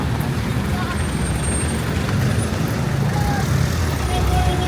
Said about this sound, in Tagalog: Guys, traffic.